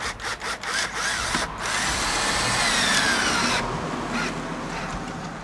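A 12-volt battery-operated drill whines steadily as it drives screws during a flag pole installation, with short bursts at the start followed by a longer sustained run, close and fairly loud.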